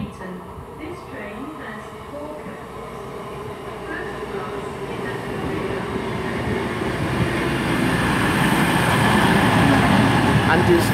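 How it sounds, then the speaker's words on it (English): A four-car Class 221 train at Bristol Parkway station, its broadband rumble and rail roar steadily swelling louder as it draws nearer over eleven seconds, with faint talk underneath. "And unusually for 221. It's only got four carriages."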